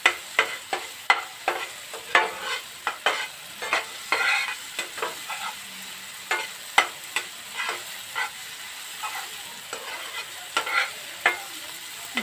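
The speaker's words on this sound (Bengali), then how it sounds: "দেখুন পেঁয়াজ আমার ভাজা হয়ে গেছে" Onions frying in a pan on a gas stove, a soft steady sizzle under repeated close scraping stirs with a spatula at an irregular rhythm, and no talking.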